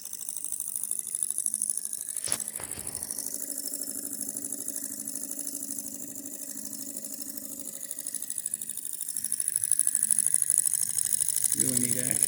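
A Chinese hot air Stirling engine, a larger model of the kind sold as solar engines, runs over a flame with a steady, quiet mechanical whir and fast ticking rhythm, near and unbroken, with a couple of sharp knocks early on.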